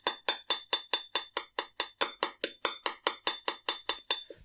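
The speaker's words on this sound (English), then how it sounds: "And we'll also hammer the loop side of the clasp in exactly the same way." Rapid, even hammer blows on the loop side of a wire bracelet clasp, about twenty sharp metallic taps in a steady rhythm, close and alone.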